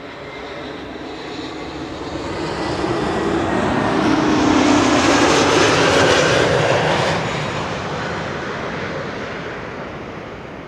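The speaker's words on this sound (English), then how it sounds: "Here we go, JetBlue arriving from Boston," JetBlue airliner from Boston arriving on runway 06 at Amsterdam Schiphol, a broad jet engine roar swelling loudly as it passes close by, then easing off while still rumbling steadily.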